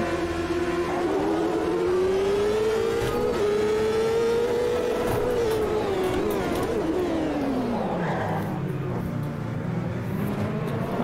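Race cars lapping the Cleveland circuit in the sim racing game Automobilista 2, a loud steady engine drone that rises and falls in pitch as a car accelerates and brakes, with other cars whooshing past.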